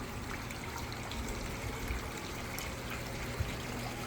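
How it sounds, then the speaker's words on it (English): Soft, steady trickle of water running continuously down a poorly working koi pond waterfall at low volume, a thin flow with faint splashes and no voices. "the waterfall is not working very well"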